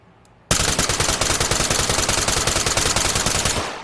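Sustained full-auto burst from a G36C rifle in the Ready Or Not police shooter game, starting abruptly after a brief quiet and running as a rapid, loud, evenly spaced stream of shots for about three seconds before tapering off.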